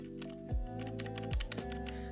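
Keystrokes on a Royal Kludge RK61 mechanical keyboard with red switches, a quick irregular run of soft clacks close by and fairly quiet over a faint tonal hum, with no talking.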